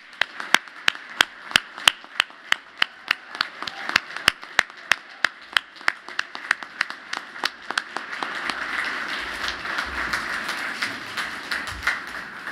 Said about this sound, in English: Please join me and give these individuals a round of applause.